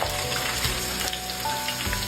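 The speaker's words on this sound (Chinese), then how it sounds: "加入干料继续炒。" Homemade spicy strips made from a dough of rice, chili powder, egg, flour and corn starch are stir-fried with dry ingredients over low heat, giving a continuous dense sizzle with no talk.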